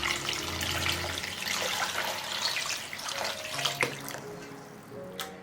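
Clear water pours steadily into a pot to cover pork pieces seasoned with salt, malt sugar, cinnamon, star anise, dried chili, ginger and peppercorns for Tong'an braised pork, a continuous close splashing rush with faint tonal hum beneath, no talking.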